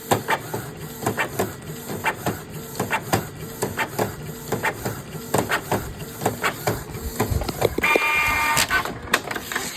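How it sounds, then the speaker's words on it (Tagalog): A Canon G2010 inkjet printer prints a nozzle test with rhythmic mechanical clicks and whirring carriage strokes, then a brief louder grinding burst near the end. "Sa pag-nozzle test print natin, hold press nyo lang ang resume button at hintayin na mag-blink ng 2 beses at release"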